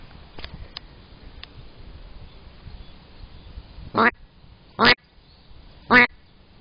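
Three loud, separate quacks from a Duck Commander Uncle Si duck call, blown outdoors near water where ducks and drakes are swimming. They come in a short, quick run over a quiet background.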